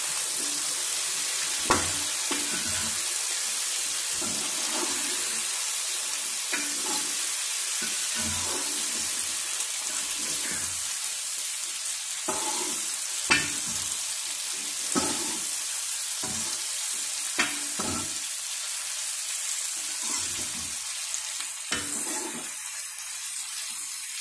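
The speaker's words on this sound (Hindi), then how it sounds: "अब डालेंगे इसके अंदर हल्दी पाउडर और इसको जो है अच्छे से मिक्स कर दें हल्दी को।" Turmeric powder stirred into potatoes and cauliflower frying in a pan for aloo gobhi: a steady loud sizzle with repeated spoon scrapes and stirring knocks scattered across the whole stretch.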